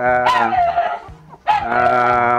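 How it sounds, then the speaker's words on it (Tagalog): A puppy gives two loud, close, drawn-out whining yelps with a clear tonal cry, a short pause falling between them. "Ayun nga yung aso."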